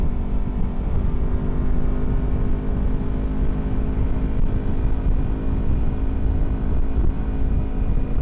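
Versys X 250 motorcycle with an aftermarket exhaust and remapped ECU pulls hard in fifth gear, a loud, steady, rumbling drone with heavy wind buffeting throughout and no talking.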